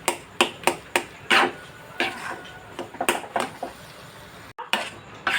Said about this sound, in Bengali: নাড়ি চাড়িয়ে নেব।